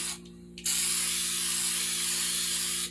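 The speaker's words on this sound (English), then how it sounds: "I'll spray this on the inside with this Flex Seal right here" Flex Seal aerosol can spraying the inside of a fiberglass helmet: after a short sputter, a steady loud hiss runs for over two seconds, close up, with no talk.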